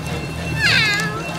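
One clear cat meow rises and falls in the middle, fairly close, above a low background hum.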